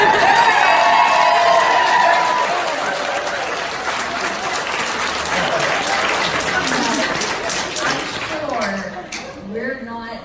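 Audience applause at a homesteading heirloom expo, dense clapping and crowd noise filling most of the stretch before thinning out near the end, with some voices mixed in.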